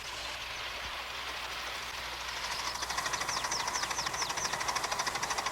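A club's steam locomotive runs along a mile-long Valley Railroad Club line, approaching from a low rumble into a steady, rhythmic chuffing and clatter that grows louder and closer over the last few seconds.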